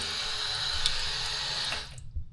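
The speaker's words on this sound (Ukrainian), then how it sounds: "Я от відкриваю кран." Water gushes steadily from an opened tap in a bathroom in Istanbul, Turkey, a continuous hiss close by that cuts off abruptly near the end, with no talking over it.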